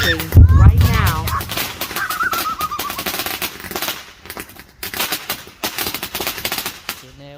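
Fireworks on a fireworks night: a loud close burst of crackling bangs at the start, then scattered pops and whistling, with people talking through the rest.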